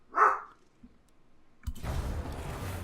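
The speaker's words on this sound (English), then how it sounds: "My dog's deciding to have a bit of a bark." A border collie barks once, a short sharp bark close by, followed by quiet and then a steady broadband rush like passing traffic.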